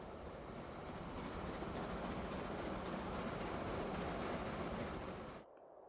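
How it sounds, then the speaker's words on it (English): Two steam locomotives double-head a diamond train up a grade in the game Transport Fever 2, making a dense, steady rolling rumble that holds evenly and then cuts off abruptly near the end. "So now, with 2 steam engines up front, it should basically make it a lot easier for the diamond train to climb the"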